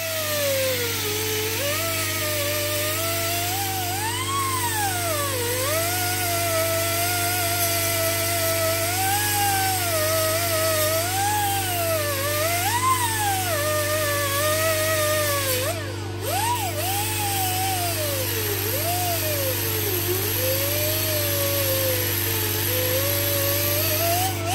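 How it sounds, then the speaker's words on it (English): A grinder smooths welds on the body of a 1989 Chevrolet S10. It makes a loud continuous whine that rises and falls in pitch as the disc is pressed and eased, over a steady hum, with no talking. "We're gonna grind it down smooth"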